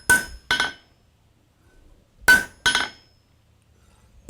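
Hot metal is hammered on an anvil while forging a barbecue spoon handle, two sharp ringing blows, a pause, then two more, close and clear with no talk.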